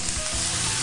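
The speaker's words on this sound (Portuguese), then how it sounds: "Não precisa ficar fritando o arroz por muito tempo." Washed brown rice frying in olive oil in a pan, giving a steady, loud, close sizzle with no talking over it.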